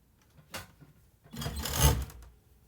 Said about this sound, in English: I'm using 4-thread overlock